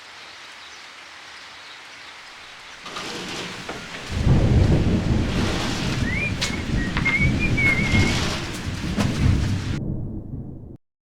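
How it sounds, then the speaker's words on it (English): Thunder from an approaching storm rolls in loud and close, a deep rumbling swell that builds and lingers for several seconds while rain patters steadily outdoors near an unfinished deck frame, about an hour from Christchurch. "There's a storm on the way."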